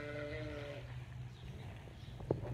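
Old goats at a zoo give a drawn-out bleat at the start, then a faint shorter call follows over a quiet background.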